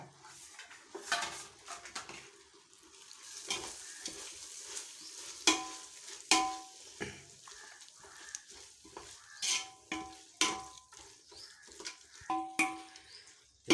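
Coriander and mint leaves being stirred into biryani masala frying in a pot, soft sizzling beneath irregular metallic scrapes and clanks of a ladle that grow louder toward the end, close by, nobody speaking.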